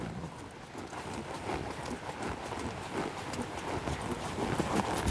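Horse hooves cantering during a fox-hunting riding lesson, a steady stream of soft thudding footfalls in a continuous rhythm, moderately close, against a broad, noisy outdoor background.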